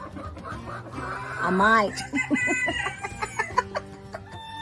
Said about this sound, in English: Am I gonna have 4 broody hens by the end of the day?